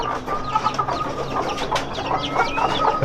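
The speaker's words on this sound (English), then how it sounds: "This is my old hen." An old hen clucks nearby in short, repeated bursts, with a few brief, higher calls from other chickens in the background.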